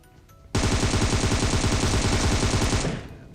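Sustained automatic gunfire from a firearm in the battle-royale game PUBG Mobile, a loud, rapid burst of shots lasting over two seconds after a short quiet lead-in, then cutting off.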